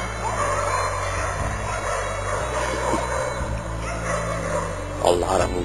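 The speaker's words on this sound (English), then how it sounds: "What you're hearing is all the stray dogs that are out there." Stray dogs in Ukraine barking and yipping at a distance, scattered calls over a steady low background hum with faint traffic.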